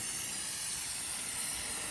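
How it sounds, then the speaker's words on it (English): A spray paint can hisses steadily and close while coating the rim of a cheap bonsai pot, one continuous airy spray with no pauses or talk. "I'm just going to spray the rim and then flip over and spray the outside"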